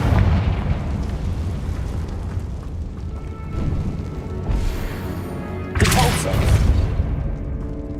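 Repeated Confringo fire-spell blasts in Hogwarts Legacy, a sustained roar of explosions with a brighter, louder burst near the end, blended with the game's background score.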